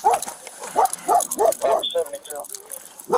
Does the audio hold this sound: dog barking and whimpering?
yes